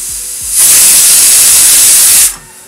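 A pressure cooker of black chickpeas on a gas stove vents a single loud, sustained steam whistle, a broad rushing hiss that swells in, holds steady for nearly two seconds, then cuts off.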